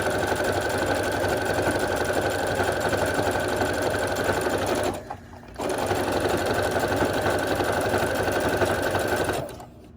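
Sewing machine stitching stretch fabric for a headband: a steady, loud mechanical whir that runs continuously, briefly stops around the middle, then restarts and runs until near the end, with no talking over it.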